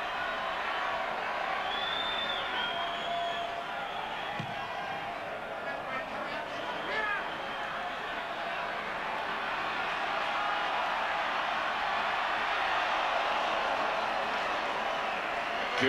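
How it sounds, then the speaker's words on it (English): Stadium crowd at a Rugby World Cup 2003 match between Uruguay and South Africa, a dense, steady roar of cheering that holds throughout, with a commentator talking over it. "the crowd getting behind them before they release it to Amarillo"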